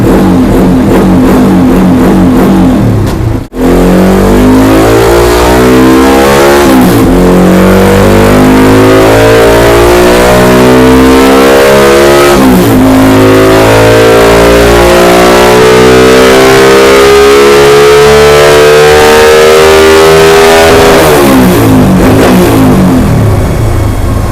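A Honda Wave 125 motorcycle engine with its stock factory engine revs hard again and again, hitting the rev limiter with sharp cut-off stutters and swinging pitch, loud and close for the whole stretch with a brief drop near the start.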